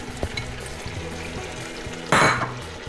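Carrots and meat frying for Uzbek plov are stirred in the pan, with a low steady sizzle and light scraping knocks, then a loud burst of hissing near the end.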